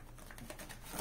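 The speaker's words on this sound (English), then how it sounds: "Okay, one more shuffle." Tarot cards are shuffled by hand in a short, close, soft burst of papery riffling and patter.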